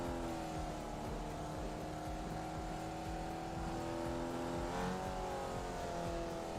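A race car engine in a RaceRoom or iRacing sim hums and revs at moderate level, with a continuous layered drone that swells and shifts in pitch, plus faint tire noise, and no talking.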